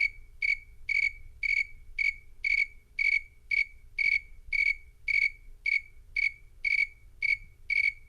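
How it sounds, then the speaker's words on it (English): Tree crickets chirp at night in a steady series of short, evenly spaced pulses, about two per second, high and clear above a low background rumble, with no voices. "often what you hear is chirping tree crickets"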